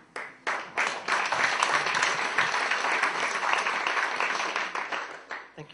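Audience applause fills a talk on education, a dense, steady wash of clapping that swells quickly and holds at a strong level before tapering near the end.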